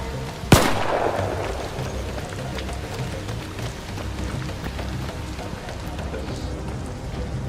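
A single sharp, loud gunshot cracks near the start in the Arc Raiders video game, followed by a dense, rain-like patter of distant gunfire and ambience continuing evenly.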